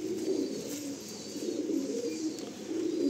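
A male loft pigeon with a red-scaled body gives soft, rhythmic cooing in repeated low swells. The cooing is faint and close, with no talking.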